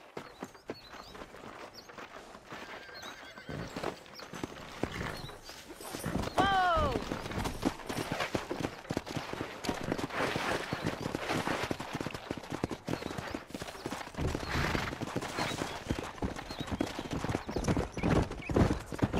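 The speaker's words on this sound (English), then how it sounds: "Let's see if we can't wrangle some horses." In the video game Red Dead Redemption, hooves clip-clop steadily at a brisk pace, with a horse neighing partway through and more hoofbeats continuing, a busy outdoor scene with occasional voices.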